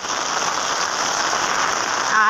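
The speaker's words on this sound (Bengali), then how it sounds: "আর প্রচণ্ড বৃষ্টি পড়ছে" Heavy rain pours down nonstop in a loud, dense hiss of drops on surfaces during a thunderstorm, with a short bit of voice near the end.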